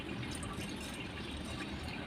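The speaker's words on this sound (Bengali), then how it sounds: "এখন এটিকে আমি চুলায় বসিয়ে দেব এবং এতে পানি দিয়ে দিব।" Water pours into a pot of washed rice set on a small stove, making a steady, soft rushing gush that holds at a low level from start to finish, with no voices.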